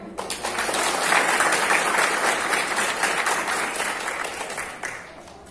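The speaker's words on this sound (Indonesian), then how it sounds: "Tepuk tangan." Sustained audience applause for a junior high school short film team at an anti-drug pledge event in Indonesia, dense steady clapping throughout with no voices over it, swelling slightly early and fading a little at the end.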